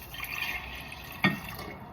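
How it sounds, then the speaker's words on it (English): Kombucha liquid pours into a clean jar holding a SCOBY, a soft close trickle of liquid with one sharp splash or clink partway through. "and then pour in the liquid that you've been given."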